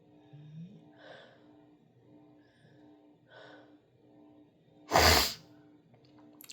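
An allergy sneeze bursts out once, close and loud, after a few quiet breaths and soft sniffs, standing alone with no talk over it.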